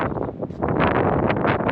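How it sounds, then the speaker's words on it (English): Wind gusts buffet the microphone on an open country walk on London's Central line route, a rough, rumbling roar that swells and eases, loud and close. "Oh, windy."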